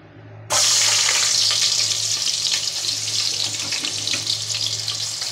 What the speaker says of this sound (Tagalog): umpisa na po natin mag-gisa